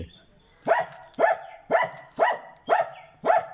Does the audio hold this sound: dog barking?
yes